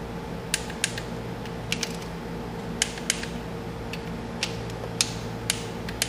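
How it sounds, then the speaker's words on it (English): Torque wrench clicks and ratchets while tightening three 10 mm bolts to 10 Nm on an Audi B5/C5 2.7T/2.8L timing belt job: a run of sharp, isolated clicks at irregular intervals over a steady low workshop hum. "those are going to be torqued to 10 newton meters or 8 foot-pounds"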